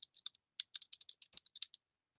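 Rapid clicking keystrokes on a computer keyboard as a search is typed, a quick irregular burst of about twenty taps, close and fairly quiet, then silence.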